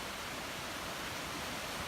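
Creek flowing past a campsite at Pictured Rocks National Lakeshore, a steady broadband rush of water with no pauses or voices.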